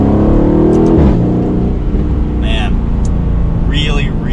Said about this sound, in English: It sounds so good with that AMG engine.